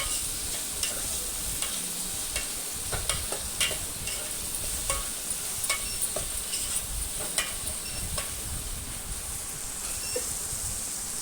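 Tomato curry being stirred in a pan with a ladle, soft scraping strokes and light ticks over a low steady simmering sizzle, fairly quiet and continuous.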